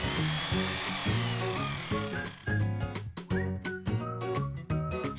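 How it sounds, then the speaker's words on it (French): Power drill boring a pilot hole into the back of a kitchen wall cabinet, a whining motor starting high then bursting in short stuttering pulses with rising and falling pitch, close and fairly loud, no talking. "Faites un prépercage à l'arrière du meuble pour pouvoir par la suite le visser sur les tasseaux."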